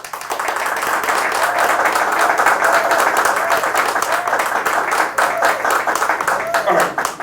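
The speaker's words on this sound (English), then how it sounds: "Now with a round of applause, can we invite on stage Mr. Stephen Bwedi." An audience at a media literacy event applauds as a speaker walks on stage: a sustained wash of many hands clapping, steady and full, with a voice over the top.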